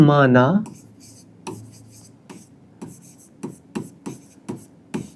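Pen writing out a maths solution on paper, a series of short scratchy strokes in an uneven rhythm, close and fairly quiet, following a brief spoken word at the start.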